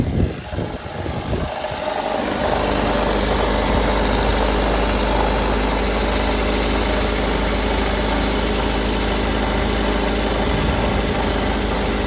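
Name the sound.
1998 Toyota RAV4 engine idling after start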